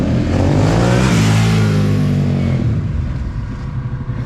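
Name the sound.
motorcycle engine revving with aftermarket exhaust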